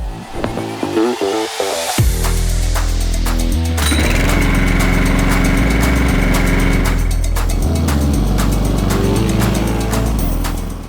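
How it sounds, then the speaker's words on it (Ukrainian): A STIHL RM 2R petrol mulching lawn mower engine starts after a few pulls and keeps running loudly and steadily at close range. "Простими і швидкими рухами газонокосарка запущена і працює."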